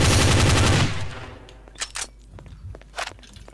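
An Acura ARX-05 DPi prototype race car engine fires up and revs loudly, rising and falling in pitch, then settles into a steady running note, with voices talking over it.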